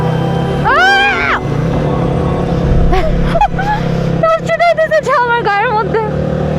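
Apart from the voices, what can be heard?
vehicle engine shifting gear on muddy mountain road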